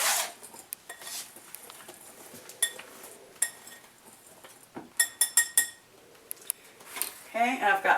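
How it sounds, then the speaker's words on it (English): Rapid metallic clinking and scraping of a whisk against a bowl of dry cornbread ingredients, close and busy, with faint speech at times. "we're just going to whisk all this together well before we add our hot water."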